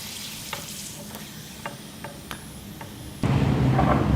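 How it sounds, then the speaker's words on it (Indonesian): Garlic cloves and candlenuts frying in hot oil in a home kitchen, a steady sizzle with a few spoon clicks, then a louder burst of sizzling near the end, with no voices. "Ini ada bawang putih 5 siung sama kemiri 3 siung. Kita goreng dulu ya."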